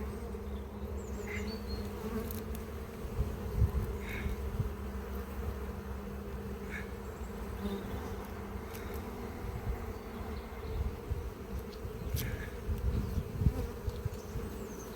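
Honeybees swarm around an open hive at an apiary in spring, filling the air with a dense, continuous close-up buzzing drone, with occasional individual bees zipping past.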